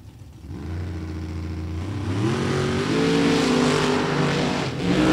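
Drag race car launching and accelerating down the strip in a late qualifying run, a loud rising engine roar climbing steadily in pitch with no speech.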